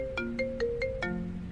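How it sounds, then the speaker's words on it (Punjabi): A mobile phone ringtone in a Punjabi romantic movie plays a bright, melodic electronic tune of about five quick repeating note pulses, clear and alone with no voices. "ਡੈਡੀ ਦਾ ਫੋਨ ਹੈ।"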